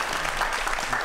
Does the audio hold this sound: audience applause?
yes